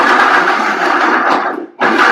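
A blender runs steadily, churning a vegan dark chocolate blueberry smoothie with frozen blueberries and brewed coffee, a loud continuous whir that drops out briefly near the end before surging back.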